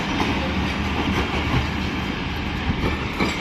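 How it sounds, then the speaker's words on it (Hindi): The 7 Up Tezgam Express rolls out of the old Badami Bagh railway station: a loud, close, continuous rumble of wagons and wheels with faint clickety-clack, no talking. "ये था डिपार्चर 7 अप तेज़गाम एक्सप्रेस का बदामी बाग रेलवे स्टेशन से।"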